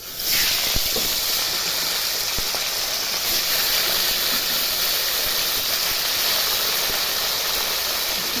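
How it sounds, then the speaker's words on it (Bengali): Meat hits hot frying oil in a pan and sets off a loud, close, broadband sizzling hiss that stays steady and unbroken to the end. "ভাজার তেলেই প্রথমে আমি মাংসটা একটু আজকে ফ্রাই করে নেব"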